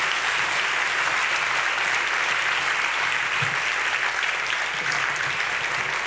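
An audience applauds speaker Stéphanie at the MT180 2024 national final at ULB, a thick continuous roar of clapping that stays loud and steady for several seconds without anyone speaking.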